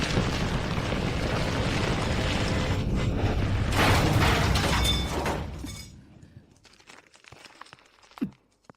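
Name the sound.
explosion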